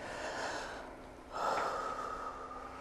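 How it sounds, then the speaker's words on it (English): A slow, deep breath drawn in through the nose during a relaxation exercise, a soft airy rush that swells midway and then holds, close and audible with no talk. "And you breathe in through your nose."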